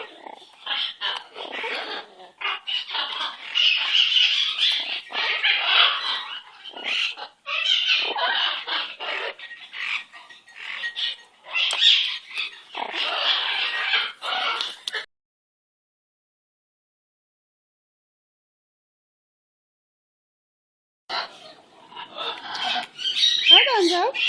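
Gonzo, a pet parrot, lets out bursts of harsh, raspy squawks one after another, then falls silent for several seconds before squawking loudly again close by.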